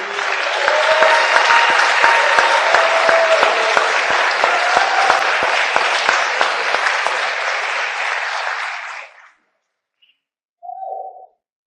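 Audience applause at an awards ceremony honoring partners of the year, a dense, steady burst of clapping from a room of people that lasts about nine seconds before stopping, followed by a short faint tone.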